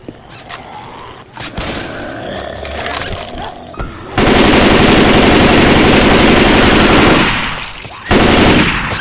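Heavy automatic gunfire in Left 4 Dead 2 at a dark carnival fairground, bursts of loud sustained machine gun fire after earlier scattered shots and voices, with a brief pause before another burst.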